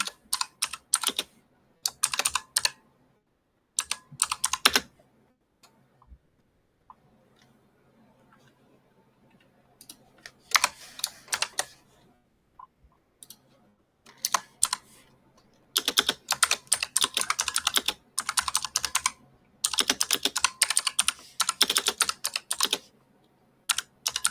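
Computer keyboard keys clicking in bursts of typing during an online session, with pauses between runs and faint room sound, no speech over the taps.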